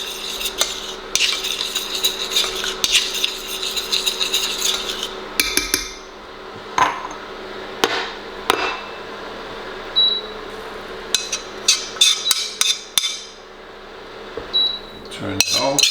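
Roasted garlic scraped from a pan into an empty dish in a home kitchen, with clinking metal utensil and dish knocks, scraping, and occasional sharp clatters close up.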